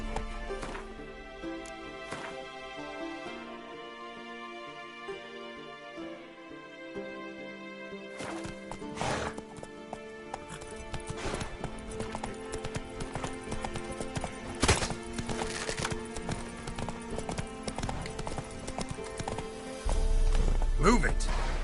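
Roach, a horse in The Witcher 3, gallops with steady, brisk clip-clop hoofbeats under layered game music, with an occasional whinny and a low rumble near the end.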